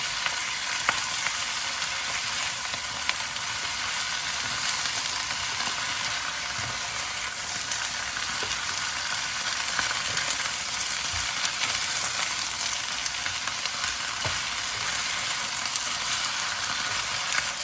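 Taiwanese bok choy stir-fried and tossed in a hot pan, a dense, steady frying hiss throughout with faint scattered tossing clinks, no voices.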